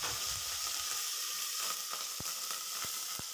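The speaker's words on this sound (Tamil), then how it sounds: "பூண்டு பச்சை வாசனை போகிற வரைக்கும் வதக்கி விட்டுக்கலாம்." Garlic, dried chillies and curry leaves sizzle steadily in a hot pan of oil, a constant close frying hiss broken by a few soft stirring clicks toward the end.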